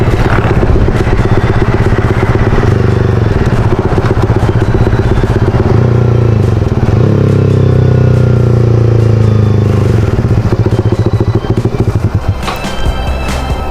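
A modified motorcycle rides along with a loud, continuous engine roar that shifts pitch as it accelerates, accompanied by rattling and occasional thumps.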